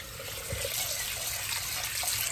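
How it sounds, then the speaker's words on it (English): Tap water pours steadily and close over rice being rinsed on a stovetop, a continuous splashing rush with no voices. "Get some water running over it."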